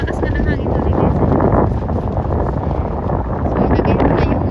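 Strong wind gusts across an open beach and buffet the microphone, making a loud, steady broadband roar that runs through the whole stretch with no clear break.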